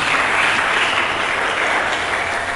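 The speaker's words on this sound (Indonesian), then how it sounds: "Mari kita berikan tepuk tangan bagi Yesus." A church congregation applauds at a service, steady, dense clapping filling the room at full volume from start to finish with no voices over it.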